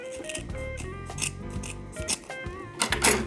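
Scissors snip through garland string in a beaded craft project, giving several close, crisp cuts in quick succession with soft rubbing and handling noise between them.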